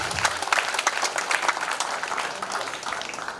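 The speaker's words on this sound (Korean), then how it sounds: "수상자께 큰 박수로 격려해 주시기 바랍니다." An assembly audience claps for award recipients at a general meeting held at a traditional Confucian academy, a dense, lively burst of many hands with sharp individual claps standing out, fading slightly toward the end.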